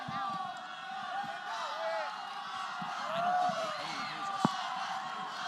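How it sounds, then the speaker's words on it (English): Crowd noise at a PFC 34 MMA fight, a steady, loud roar of cheering and whooping from the arena audience, with talk heard over it throughout. "So the crowd pumping their boy up."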